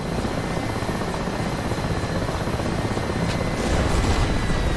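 Mi-8 helicopter in the flight simulator DCS World, a loud continuous rotor and turbine roar that holds steady throughout, thick broadband rumble with no talking over it.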